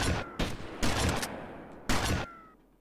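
Bursts of loud gunfire from the Grand Theft Auto: Vice City game crack out in three or four close, heavy volleys separated by short gaps, then trail off into quiet at the end.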